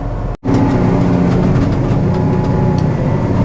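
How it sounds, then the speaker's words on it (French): A tractor working a stubble field in heavy soil with tine cultivator: loud, steady engine roar with a strong low drone and rumble, briefly cut by a short dropout near the start, then continuous and close. "Là je suis dans une terre lourde, le tracteur fait beaucoup de bruit."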